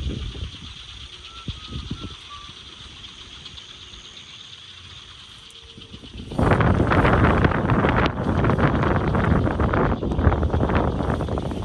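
Strong storm wind at a campsite with a large tent, first a low steady rush, then abruptly surging into loud, roaring gusts that buffet the microphone and stay intense to the end.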